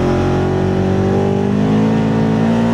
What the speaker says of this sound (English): But here's my first time taking off in a turbo Xpedition.